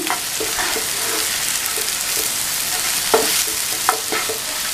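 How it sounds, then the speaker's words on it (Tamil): A utensil scrapes and stirs soya chunks in a sizzling pan, with a few sharper knocks against the pan over steady frying. "சேர்த்துட்டு நல்லா ஒரு பெரட்டி விட்டுறணும்"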